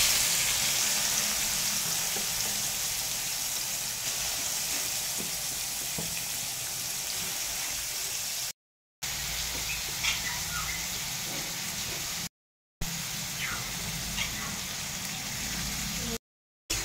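Mixed vegetables frying in ghee with bay leaves and cloves for fried rice, a steady, moderately loud sizzle with scattered crackles and pops, broken by a few short silent gaps.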